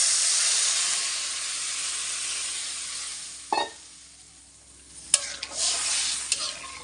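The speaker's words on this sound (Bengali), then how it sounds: "এটা এখন জল দিয়ে দেবো" Spice masala frying in oil in a pan hisses loudly, then water poured in for a fish curry sets off a sharp sizzling burst and a second splashy hiss before the sound settles to a softer steamy crackle.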